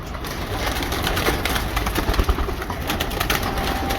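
Steady outdoor ambience with soft pigeon coos and faint wing flutters, no talking, fairly close and continuous.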